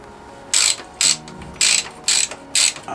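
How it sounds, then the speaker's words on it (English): A spanner ratchets on a bolt of a Honda CB650R GIVI motorcycle luggage rack, five loud, close bursts of rapid clicking in an even rhythm with short gaps between them. "Stick the spanner on it, over the rubber"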